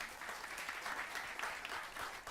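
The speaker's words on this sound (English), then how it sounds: "that's a round of applause for that" Steady, dense audience applause fills a crowded panel room at Nerd HQ during San Diego Comic-Con 2016, a continuous wash of many clapping hands at even loudness with no voices over it.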